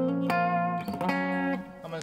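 An electric guitar played straight clean through an amp with no saturation or distortion, sustained ringing notes and chords that change a couple of times, close and fairly loud.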